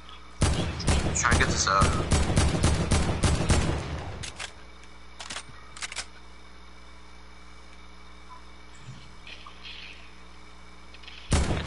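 Gunfire in a multiplayer shooter game, a burst of rapid shots in the first few seconds over talking voices, then sparse, quieter single shots and distant game noise.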